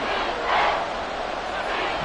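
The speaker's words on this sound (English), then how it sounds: "The crowd getting into it as we come up on a big third down." A football stadium crowd roars steadily through a big third down in a Patriots versus Chiefs game, a dense wall of cheering that swells briefly and stays loud throughout.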